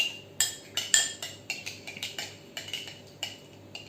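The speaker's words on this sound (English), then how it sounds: "and now I will just mix it up. Okay, try to mix it, blend it together." A utensil clinks and scrapes against a bowl while a mustard vinaigrette for a salad is whisked together, giving a steady series of close, bright metallic taps at an uneven rhythm with no talking.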